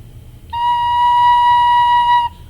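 A recorder blown with soft, gentle breath sounds one steady, pure note for about two seconds, clear and close, alone over a faint low room hum.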